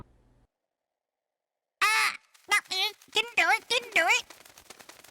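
A myna bird character in the Layton's Mystery Journey video game squawks, a burst of harsh, repeated cawing calls coming in loud and close right after a moment of silence.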